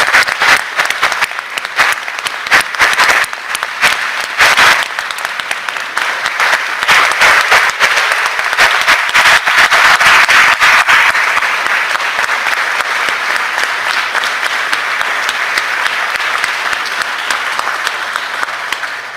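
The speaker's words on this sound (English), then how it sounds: "Let's give him a big round of applause" A sustained, loud round of applause fills the Mississippi Senate chamber in honor of a committee chairman, dense clapping that holds steady throughout with little let-up.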